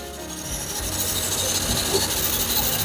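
Samsung dryer blower scraping against something as it spins, a steady rough rubbing and grinding noise that runs continuously, close and moderately loud with no voices.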